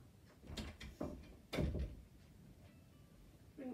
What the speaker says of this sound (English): I wanna go and close my door.